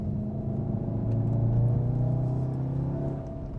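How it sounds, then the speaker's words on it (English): A 2015 Volkswagen Golf R's turbocharged four-cylinder TSI engine with DSG gearbox hums and rumbles steadily, swelling slightly in the middle before easing off, with no talking. "with this 4-cylinder TSI engine, turbocharged"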